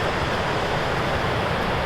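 A waterfall in Iceland's Westfjords roars in a dense, unbroken rush of water, loud and close, with no voices.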